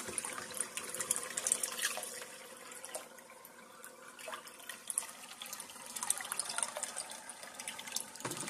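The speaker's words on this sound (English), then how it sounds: "I'm just going to dump them in, because I made sure I didn't put too much water in the tank" Water pours and splashes steadily into a fish tank as crayfish are dumped in with it, a continuous close sloshing and trickling that lasts throughout with no talking.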